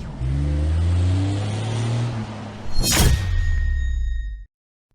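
A car engine idles and revs loudly up close, then a rushing surge comes as the car pulls away. The steady drone continues briefly before cutting off abruptly.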